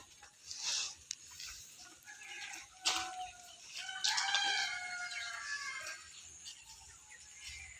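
Chickens cluck in short bursts around a yard while a rooster lets out a crow, the calls rising and falling at moderate distance over a quiet background, with no talking.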